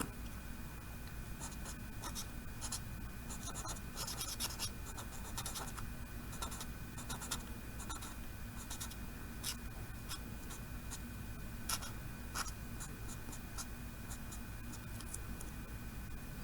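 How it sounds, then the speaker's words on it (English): Marker or pen coloring in a stamped image for a handmade Stamp of the Month card, quiet steady scratchy strokes with short bursts of rubbing, close and alone. "I'm not going to get too fussy about coloring any of that since I'm not using it"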